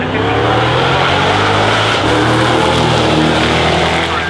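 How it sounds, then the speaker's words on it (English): Racing cars of mixed ages, old, new and F1, roar past on a hillside track near the start line, a loud sustained engine blare with no talk over it. "this is where you can see old cars, F1 cars, everything, new cars, all of these cars in action"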